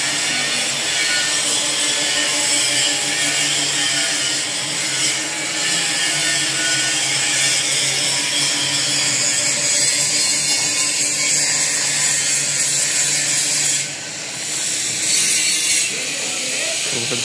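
A covered 6-blade chaff cutter with a 6.5-inch welded delivery mouth and a full motor stand runs steadily and loudly throughout, with a continuous mechanical whir and clatter, and there is no speech.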